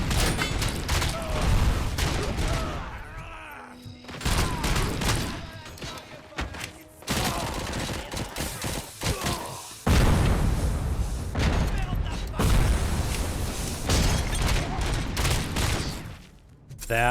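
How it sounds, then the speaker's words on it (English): Grenade blasts and a run of explosions in the RoboCop: Rogue City video game, heavy booms and crashing bursts one after another with brief lulls, while someone talks over the gameplay. "That was a lot of stuff that just blew up by me."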